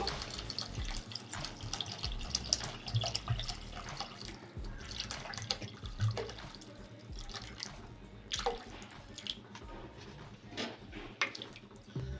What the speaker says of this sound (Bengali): আমি জল দেবো যতটা সুবিধা তার ডবলে আমি জল দেবো